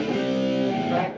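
A short burst of distorted rock guitar plays a gritty sleaze rock riff, loud and sustained for about a second.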